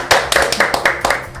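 A few people clap in a radio studio, giving about five sharp, closely spaced claps in an uneven rhythm, loud and close with no talk over them.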